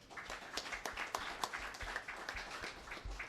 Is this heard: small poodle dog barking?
no